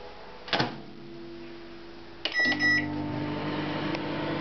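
A microwave oven is being started up to reheat porridge, with a door thud, then a series of short beeps followed by a steady running hum that continues at an even level to the end.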